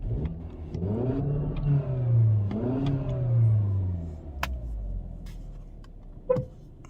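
A 2020 Kia Optima SXL engine revs up twice, rising and falling in pitch, followed by a few light clicks and a short sharp horn tone, close and fairly loud.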